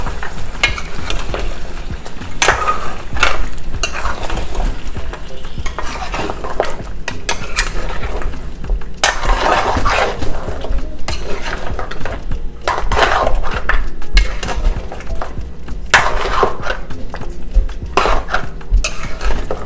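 Jollof rice sauce is stirred in a pot, with a spoon scraping and clattering against the metal in a dense run of strokes over a low simmering sizzle.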